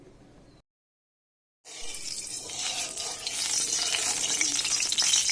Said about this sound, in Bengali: এবার আমি কড়াই তেল দিয়ে দিচ্ছি ডিম ভাজার জন্য